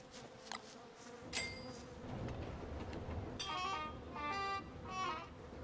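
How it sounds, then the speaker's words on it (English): Flies buzzing over manure in the game Don't Starve, a thin insect drone with several rising and falling buzzy swells, moderately loud and alone with no talk. "but then I realize that there's flies over the manure"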